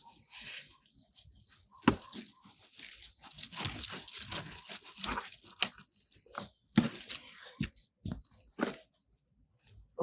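Snips and tearing crunches as a mature, brown plant tendril stem is cut at harvest in a small container garden, irregular close cuts and rustling with quiet gaps between.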